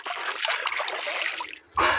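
A person wades into a cold river, splashing water continuously for a moment before a brief pause and a louder, closer splash at the end.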